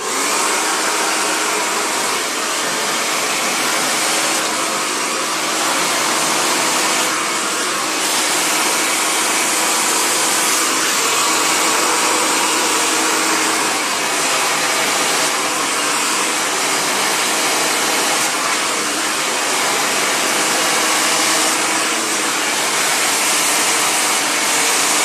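A hair dryer blows steadily and loudly for the whole stretch while curly hair is brushed straight, its broadband rushing airflow constant with slight shifts as the brush moves, and no voices over it.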